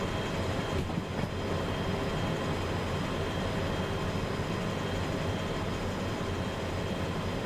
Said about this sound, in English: This sounds like a proper train too. Or it's just like, it's just chugging. It's just hard chugging.